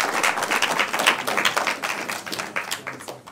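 An audience applauds the teams at a university law challenge semi-final, a lively, steady patter of many hands clapping together that stays fairly loud throughout and fades slightly toward the end.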